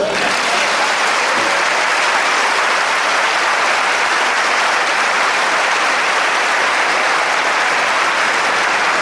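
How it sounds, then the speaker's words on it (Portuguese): A church congregation applauds during a sermon, the clapping loud, dense and continuous for the whole stretch with no voices over it. "Dê um aplauso a ele"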